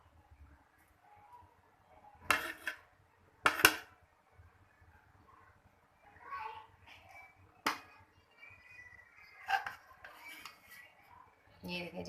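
A spoon clatters and scrapes against a cooking pot as kofta biryani with steamed rice is dished out, with irregular metallic clinks and soft scoops spread apart amid quiet gaps.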